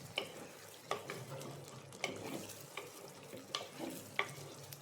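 Beef liver roast with green chillies being stirred in a pan, quiet sizzling beneath a series of distinct spoon scrapes and taps about once a second, close but soft.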